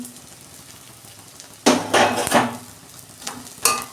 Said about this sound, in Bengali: এই যে মাছের ডিম ভাজা হয়ে গেছে